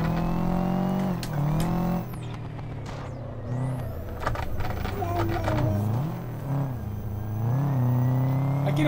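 A Subaru rally car in a racing game mod on Costa Brava rally stages revs hard and accelerates through gear changes, its engine note rising and falling loudly and continuously, while a driver talks over it.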